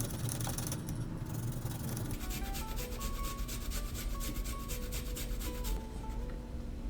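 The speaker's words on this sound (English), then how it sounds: "we're going to want to go ahead and grate it nice and fine." Fresh ginger is grated finely on a grater, giving a steady close scraping and rubbing sound that continues without a break and with no talking.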